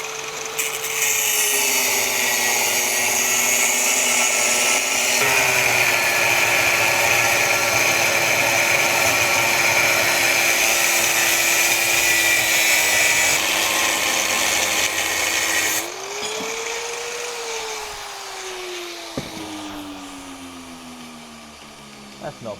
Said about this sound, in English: we'll just turn the grinder on. I'm going to cut this bracket